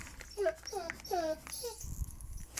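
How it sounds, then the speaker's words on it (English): A dog whines in a series of high, rising and falling whimpers, fairly close and clear, with a low rumble and faint background noise after the cries stop. "with a whiny dog"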